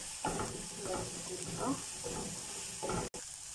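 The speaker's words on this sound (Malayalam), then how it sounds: "നന്നായിട്ട് ഇളക്കി കൊടുക്കാം" Beef masala filling with garlic, ginger, curry leaves and green chillies stirred in a hot pan, a soft steady sizzle broken by a few rhythmic scraping strokes of the spoon.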